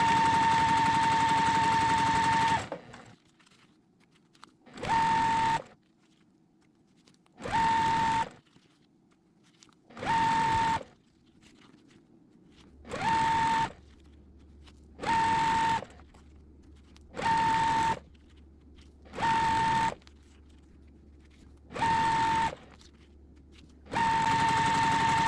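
A sewing machine stitches pairs of quilt block pieces in about ten short, even bursts of steady whirring, each run separated by a pause and a soft rumble.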